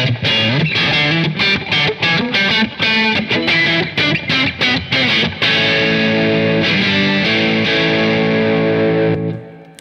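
A distorted Fender Jazzmaster on the neck pickup plays loud, punchy chopped chords in a quick rhythm, then rings out into sustained notes that slowly fade.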